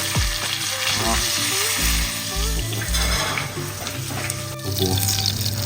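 Food deep-fries in golden oil at a slow simmer, giving a dense, continuous sizzle and bubbling close up. A few clinks and faint background tones sound under it.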